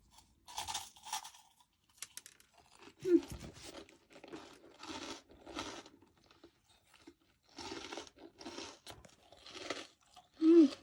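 Homemade Thai rice crackers (khao taen) are crunched and chewed in several bursts of crisp crackling, close and fairly loud, separated by short pauses.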